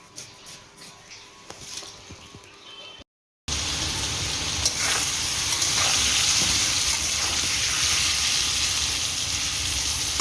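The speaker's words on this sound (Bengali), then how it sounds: "আর এখানে হচ্ছে উচ্ছে আলু ভাজা।" Bitter gourd and potato fry in oil in a pan, making a dense, steady sizzle that starts abruptly after a quiet stretch and continues loud and close to the end.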